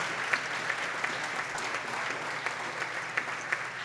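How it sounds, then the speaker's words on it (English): Audience applause at a democracy summit panel honoring the first Black woman to serve as Speaker of the Maine House: a steady, dense wash of clapping from a crowd, even in level throughout with a few sharper claps standing out. "Let's give a round of applause for that."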